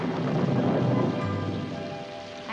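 Steady rain pours down in a wintry household scene, a dense continuous hiss with low rumbling underneath that gradually eases off, with no one speaking.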